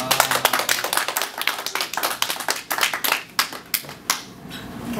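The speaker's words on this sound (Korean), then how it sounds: "박수." A few people clap by hand in a small room, a close, brisk patter of claps that thins into scattered single claps near the end, no voices heard.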